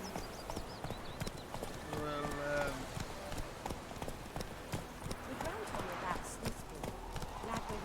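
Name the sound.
horse hooves clip-clopping while riding in The Witcher 3 video game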